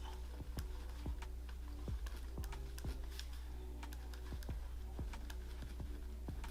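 Someone types a short note on a computer keyboard, a steady run of light, fairly quick key clicks with a few slightly louder taps, close by and alone over a low hum, with no talking.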